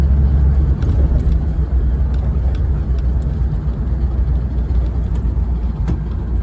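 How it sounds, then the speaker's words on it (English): A 1940 Mercury Eight convertible with a smooth-running 239 cubic inch flathead engine, a steady, loud low hum and rumble from inside the car, unbroken for several seconds with only faint clicks. "a real nice smooth running 239 cubic inch flathead"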